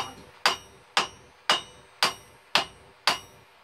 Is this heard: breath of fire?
no